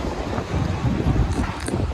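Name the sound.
strong cold wind blowing at Masjid al-Haram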